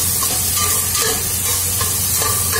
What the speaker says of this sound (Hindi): और ये मेरे मटर डाला हुआ है, अब ये मिक्स हो रहा है